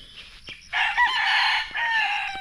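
On a farm near a pig pen, a rooster crows once loudly and close, a strained call in two sustained parts after a few soft clucks.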